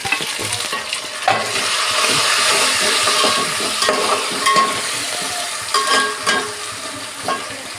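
A coconut, garlic, ginger and curry-leaf paste sautés in a pan for homemade chicken curry, with a loud, continuous close sizzle broken by repeated stirring scrapes.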